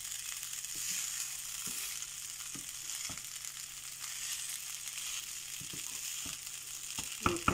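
Rice with salt is stirred in a frying pan for biryani, giving a steady soft sizzle and hiss with light irregular scrapes and taps of the spoon, fairly quiet and with no voices.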